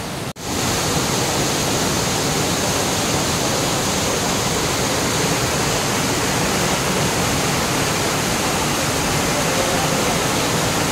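Falling water of the small Ratmohana waterfall near Ghatshila roars in a steady, dense rush, loud and close, starting after a brief click and continuing unbroken.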